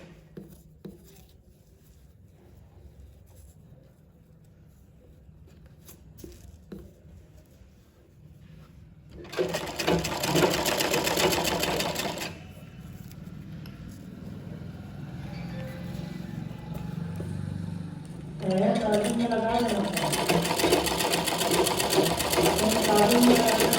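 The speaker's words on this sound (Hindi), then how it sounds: "दोनों कपड़े को बराबर करके हम सिलेंगे।" A sewing machine stitches blouse sleeve fabric in two sustained bursts of whirring needle motor, loud and close, with quieter handling noise before and between them.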